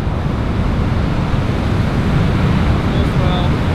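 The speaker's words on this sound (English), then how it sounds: "luckily, we have some solid waves here at Rocky Point." Solid ocean waves break at Rocky Point on the North Shore, making a continuous loud wash of surf mixed with wind buffeting on the microphone.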